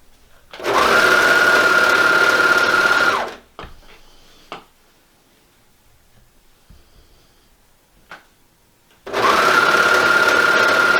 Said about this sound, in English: So I'm taking and sewing the last armhole all the way through to the neck that I just serged on.